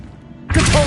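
A spell effect from the Hogwarts Legacy video game lands as a sudden loud whooshing thud that bursts in halfway through the moment and rings on briefly.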